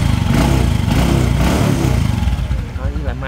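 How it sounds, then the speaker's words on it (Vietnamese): Honda Future 2 motorcycle engine running, a close, loud, rapid putter that stays even and smooth with a slight rise and fall, while someone talks over it. "Máy em nghe tiếng máy nổ nè, không khác gì tiếng máy zin nha."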